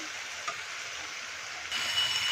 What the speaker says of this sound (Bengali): এটা আমি আর একটু ভালো করে কষানো দেখো মশলা তেল ছেড়ে আসছে